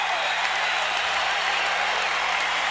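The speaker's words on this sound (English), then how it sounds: "Listen to the crowd as the Magic call timeout." Arena crowd at a 1989 NBA game between the expansion Orlando Magic and the Detroit Pistons roaring during a late timeout, a loud continuous wall of cheering and clapping with a steady hum underneath.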